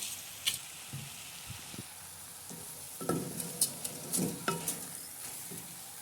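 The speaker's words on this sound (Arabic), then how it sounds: "وغادي نخلطوا جميع المكونات، وغادي نضيف الرز اللي غسلته مزيان" A spoon stirs washed rice into the kabsa ingredients in a cooking pot. It makes soft, scattered scrapes and light clinks, quiet and intermittent, with a faint hiss underneath.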